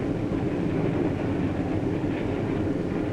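A 1950s passenger train runs steadily along the tracks, its wheels and carriages giving a continuous, even rumble that holds at close range and never lets up.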